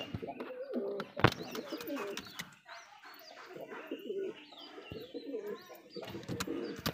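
A long-bodied pigeon coos repeatedly up close, soft throaty calls with other birds chirping nearby and occasional sounds in the background.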